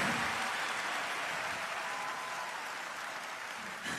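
Concert audience applause for a choir at a Christmas show, a broad, steady wash of clapping from a large crowd that stays even and fairly distant throughout, with no talk.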